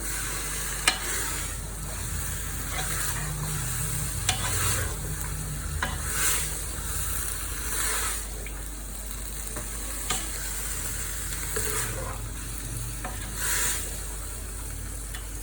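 Turnip and spinach bhujia with spices is stirred in a pan with a continuous sizzle, while a spoon scrapes rhythmically with repeated soft strokes and occasional taps against the pan.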